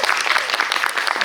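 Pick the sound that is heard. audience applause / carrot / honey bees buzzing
audience applause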